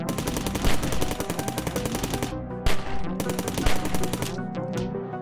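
Rapid, rhythmic gunfire from a shotgun and assault rifle in an indie roguelite platformer video game, with dense repeated shots over game music, loud and continuous with brief breaks.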